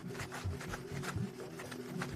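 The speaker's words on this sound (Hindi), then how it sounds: "अब मैं फायर सॉ को इसके साथ रगड़ रहा हूं" A fire saw rubs back and forth against a wooden base in repeated rasping strokes while a person works to make an ember in a jungle setting, with a steady grating texture throughout.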